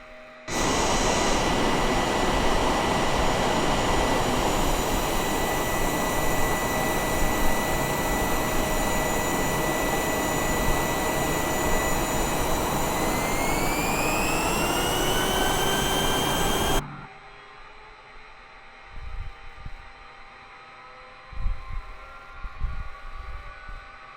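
Jet engines whine steadily while an aircraft taxis in Microsoft Flight Simulator 2020, a loud continuous roar whose tone rises near the end before cutting off abruptly to quiet room noise with faint bumps.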